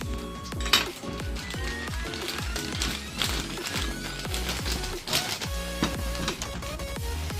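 Pieces of food set one by one into a metal pan, giving a busy run of clinks, knocks and rattles against the pan, close and fairly loud, with no talking.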